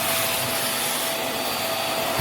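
Vax Mach Air upright vacuum cleaner running on low pile carpet, a loud, steady close whoosh of motor and suction with no break.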